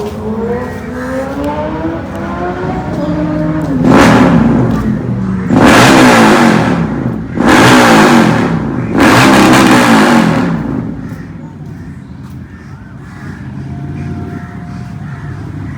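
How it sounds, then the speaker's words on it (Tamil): Superbikes, including an Aprilia RSV4, tear past one after another at high speed at a bikers' meeting point, three loud roaring passes with engines revving hard, each swelling and fading, followed by quieter engine idle. "பைக்கர்ஸ்லாம் வரானுங்க, செம்ம ஸ்பீடு வரானுங்க"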